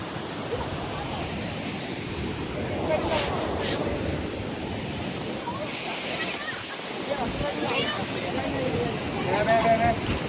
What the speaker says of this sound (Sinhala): වතුර පාර වැඩුණා උඩට වහිනවා